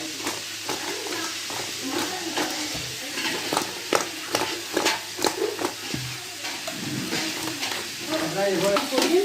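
Chilli powder being stirred into a frying river-fish curry, with steady sizzling and intermittent scraping and clatter from the pan, fairly close.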